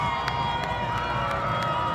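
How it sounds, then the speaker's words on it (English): A home crowd at a Cass Tech high school football game against Grandville roars steadily on its feet, a dense, continuous wash of cheering dotted with faint claps and shouts. "And this jumping, joyous crowd."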